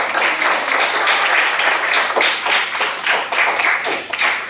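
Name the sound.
applause in a classroom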